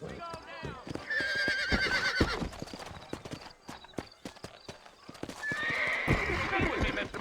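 Horses in the Red Dead Redemption western game, set in New Ulster, whinny loudly and repeatedly while hooves clip-clop in a steady rhythm, alongside faint voices.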